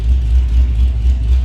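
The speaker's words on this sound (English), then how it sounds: "The car has come down to a normal idle, so this is basically what it would idle at." A straight-piped drag car engine idles in a garage, a loud, deep, lumpy rumble with a steady pulsing rhythm close to the microphone.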